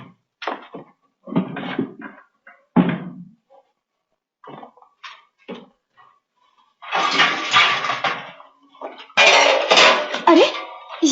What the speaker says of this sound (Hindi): सारे बर्तन क्यों घसीट रहे हो?